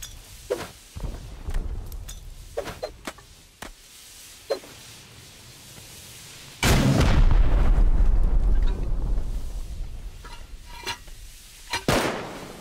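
Rockets and gunfire go off during a modded raid in a survival shooter game, with sharp scattered booms early on and then a long, loud, rumbling explosion that roars for several seconds before fading, followed by another close blast.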